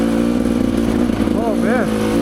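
Rieju Ranger motorcycle engine revving steadily as its worn tire spins in place on a single-track trail hill climb, loud and close throughout, with a rising whine near the end.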